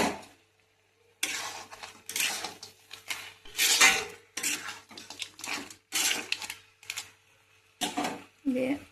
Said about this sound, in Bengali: এখন আলু ভাজাগুলো দিয়ে দেব।